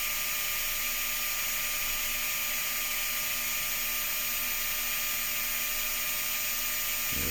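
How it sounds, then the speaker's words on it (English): A high, steady drill whine runs continuously at close range as a small bit bores a pilot hole into a rivet post on a Volkswagen SP2, a constant grinding buzz without pauses, ending abruptly. "take out the smaller drill bit and create a bit of a pilot hole down in that rivet post"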